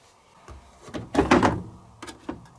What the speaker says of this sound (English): then the door will lock and the lock light will come on